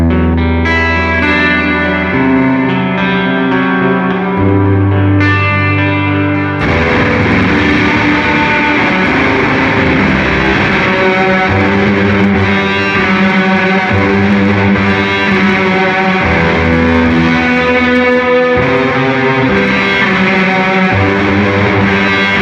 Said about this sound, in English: reverb before fuzz, and then a fuzz.